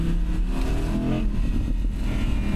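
A 2023 Audi R8 V10 Spyder engine revs and downshifts on a test track: a loud, close, continuous growl with shifting pitch and no talking.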